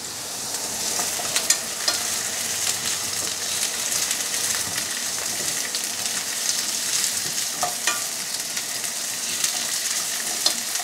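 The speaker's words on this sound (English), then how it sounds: "And just stir up your carrots." Carrots stir-frying in a pan on high heat, a steady close sizzle with scraping stirs and small utensil clicks throughout, no voices.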